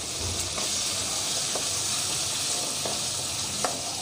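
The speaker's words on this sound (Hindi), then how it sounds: "अब मैं इन सबको अच्छे से मिक्स कर दूंगी" Pasta with Maggi masala is stirred in a hot pan, giving a steady soft sizzle and hiss with occasional light scrapes of the spoon.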